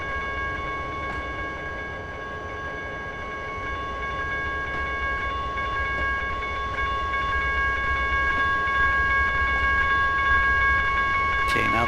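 A train rolling on rails at a slow crawl in the Trainz 2010 simulator at night, a steady rumble with sustained tonal whine and a sharp clank at the very end.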